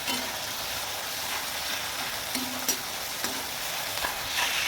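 Onions fry in a pan while being stirred, giving a dense, even sizzle close up and constant throughout, with faint scraping strokes of the spoon and no voices.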